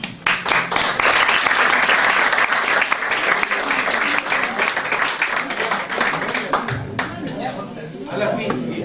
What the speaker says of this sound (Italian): quindi applauso